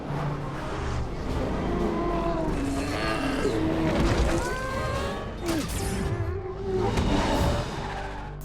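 A car chase in an action film, with roaring engines, tyre squeals and a monster-engined racing truck, mixed with shouted voices and music in a busy, loud, continuous soundtrack.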